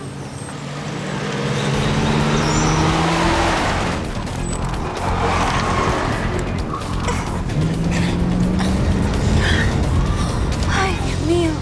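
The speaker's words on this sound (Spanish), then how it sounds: "¿De dónde salió ese carro que ni lo escuché?" A car drives along a road, its engine and tire noise swelling to a loud, close pass and lingering as a broad rumble, with faint voices and other sounds over it.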